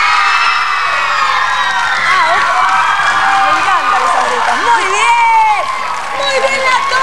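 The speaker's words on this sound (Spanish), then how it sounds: "A ver, un grito de la tribuna, quiero un grito." A crowd in the stands of a festive children's TV show event shouts and cheers continuously, loud, dense and sustained, with children's voices rising in whoops and yells throughout.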